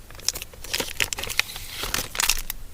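Crinkly plastic foil of a Pokémon card booster pack wrapper being torn open, a series of close, sharp crackling rips and crumples coming in bursts without talk.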